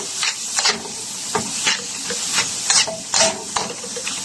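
Taco-seasoned filling cooks in a pan, a close sizzle that swells in repeated bursts as a spoon stirs and turns it.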